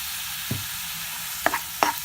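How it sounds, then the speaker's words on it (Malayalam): Tomatoes sauté with salt in a pan under a constant soft sizzle, broken by a few short scraping stirs. "ആവശ്യത്തിനുള്ള ഉപ്പും ചേർത്ത് നന്നായിട്ട് വഴറ്റാം."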